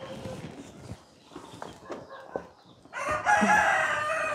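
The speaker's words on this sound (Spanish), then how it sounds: "Ahí hay unos pollitos." Chickens and small chicks close by in a rural yard: soft clucks and peeps under quiet talk, then a loud rooster-like crow near the end.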